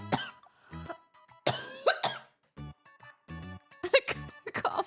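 Several harsh, raspy coughs and throat-clearing bursts in quick succession, close and loud, with short pauses between them.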